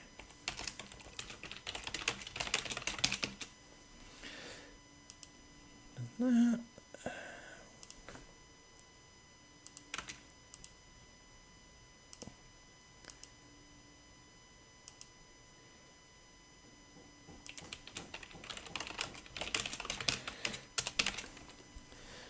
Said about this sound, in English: if you're wondering what all the clicking is, it's my magical mouse, which is very loud